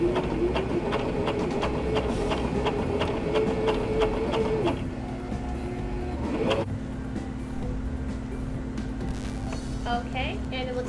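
Sewing machine stitching a section of a fabric face mask, a fast, even mechanical whir with rapid needle rhythm that stops partway, under a person talking.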